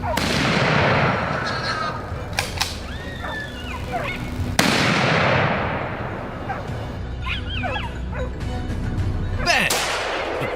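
Hunting a wild boar with a dog: two sharp, loud gunshots ring out several seconds apart, each followed by a decaying echo, over outdoor background noise, with a few dog-like yelps between them.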